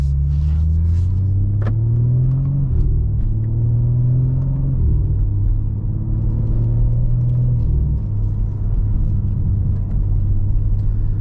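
A 2023 BMW M4 Competition xDrive with a ZF 8-speed automatic drives off, its engine rumbling loud and close from inside as repeated rising tones mark it pulling up through the gears.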